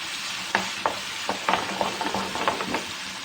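Onion, tomato and green chilli masala is stirred in a hot pan, the spoon scraping in irregular clacks over a steady sizzle of frying, up close with no talking.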